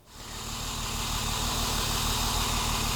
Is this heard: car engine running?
yes